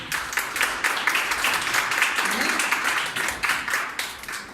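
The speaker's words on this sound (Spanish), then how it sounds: "Aplauden a Jesús por ello." A church congregation claps together in a sustained burst of applause, steady and fairly loud throughout, with voices mixed into the crowd noise.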